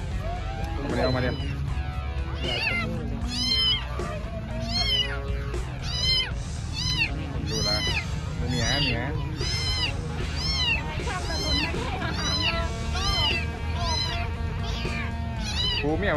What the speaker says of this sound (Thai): แมวครับ